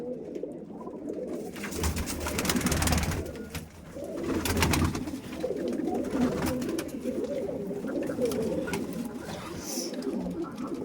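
Flying pigeons of a strong racing breed coo in a loose, continuous chorus, close and fairly loud, with low rumbling purrs running throughout and brief voices occasionally breaking in.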